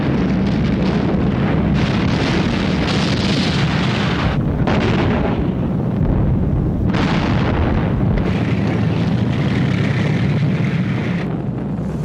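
Soviet T-34 tanks open fire at point-blank range in a huge World War II armoured battle, loud continuous booming blasts and roaring rumble layered together, with no voices.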